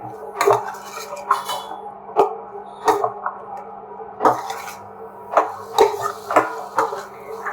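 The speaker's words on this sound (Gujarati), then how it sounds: "પછી તેને આપણે પાંચ મિનિટ હલાવવાનું છે" A spoon clinks and scrapes against a pan while peanut bhajiya curry is stirred, with about a dozen irregular metallic knocks over a faint low hum.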